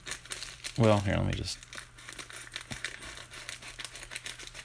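Scissors cut open a cardboard box of baseball cards, making a short, crisp crinkling crunch close by while someone talks.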